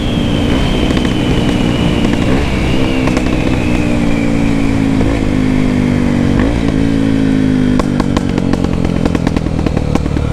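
A Honda XR Tornado motorcycle engine with a BelParts Classic exhaust roars loudly up close, revving with shifting pitch and rattling clatter, steady and unbroken throughout.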